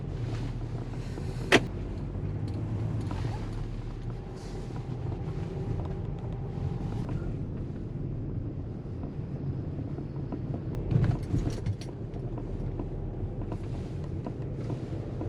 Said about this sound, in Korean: 남쪽으로 지금 차를 운전해 보겠습니다